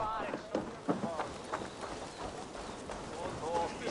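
Horse hooves clip-clopping in a video game set in Viking-era England, a steady run of soft repeated hoof beats mixed in with background speech and game ambience.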